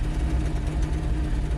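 A woodgas-fuelled truck engine running rich on a cold start, idling slightly high as it warms up: a steady low rumble with no talk over it.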